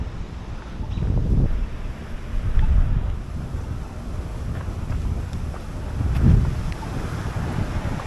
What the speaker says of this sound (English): It is windy this morning.